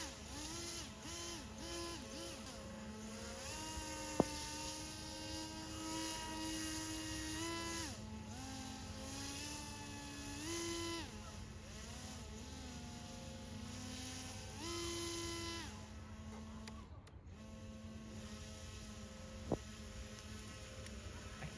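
A small RC hovercraft built from drone parts runs steadily, its lift motor and fan giving a continuous buzzing whine with shifting pitch as the throttle changes, close and fairly loud throughout.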